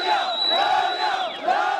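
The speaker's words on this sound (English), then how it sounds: "they were met by wild cheers from the crowds" A large crowd of protesters in Iraqi Kurdistan cheers wildly, with loud, sustained massed shouting and rising chanting cries that swell and fall in waves.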